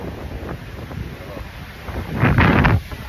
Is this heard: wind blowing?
yes